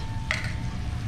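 Garlic and mint dropped into hot oil for an Indian dish, giving a brief burst of sizzle that settles into a steady low frying hiss, close and moderately loud.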